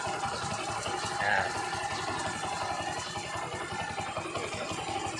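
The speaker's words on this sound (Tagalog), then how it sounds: "narinig nyo naman, normal lang yung idle nya, wala na yung mataas na idle nya dahil naka-disable yung choke" A Rouser 135 motorcycle with its auto choke disabled idles steadily at a normal, low speed, a faint, even mechanical putter with no revving, heard close with some background noise.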